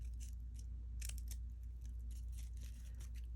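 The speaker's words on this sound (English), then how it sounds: "I'm gonna go ahead and cut into that, if I can feed my scissors in there." Scissors snipping into paper while making a paper flower for a cloche craft, a series of quick crisp cuts in short irregular bursts, close and fairly quiet over a low steady hum.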